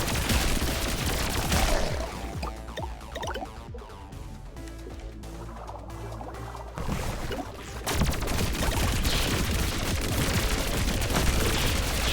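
Rapid, dense bursts of gunfire in the video game Pathogenic. Loud, overlapping shots fire in a fast stream, thin out briefly in the middle, then return at full intensity.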